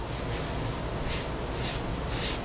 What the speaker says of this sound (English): You can vary the grit of sandpaper. This happens to be 150.